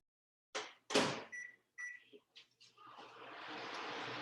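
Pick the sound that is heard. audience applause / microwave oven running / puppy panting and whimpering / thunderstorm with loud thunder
microwave oven running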